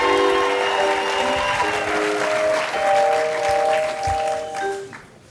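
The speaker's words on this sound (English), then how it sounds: "a big round of applause for Brody Davis" A storytelling-slam audience gives a big round of applause for storyteller Brody Davis, dense sustained clapping with cheering, loud and close. It fades out at the end, and steady tones sound beneath it.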